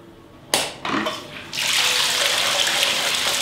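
A homemade DIY fountain with a bell-shaped spray nozzle starts up after a few bursts and sputters, then settles into a steady, loud rush of spraying water with no talking.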